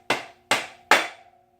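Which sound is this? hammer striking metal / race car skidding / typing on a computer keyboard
hammer striking metal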